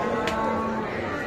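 A calf moos in a long, steady low call at a cattle market where small calves are being sold, with crowd noise and faint voices beneath it.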